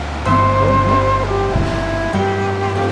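Ocean waves wash loudly and close at the Kiama blowholes on the New South Wales coast, with a continuous roar of surf and water.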